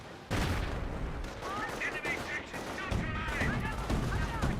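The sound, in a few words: units firing guns in the video game Company of Heroes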